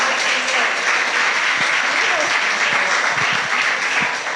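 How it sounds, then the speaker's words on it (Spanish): Steady applause from a church women's gathering, a dense wash of clapping that holds evenly throughout, with faint voices beneath. "dámosle un aplauso a la pastora Milagros"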